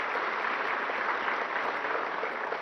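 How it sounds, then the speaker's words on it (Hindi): An audience applauds steadily and loudly at a government ceremony where farmers receive natural-farming produce certificates, the dense clapping holding even throughout without speech. "जोरदार तालियां।"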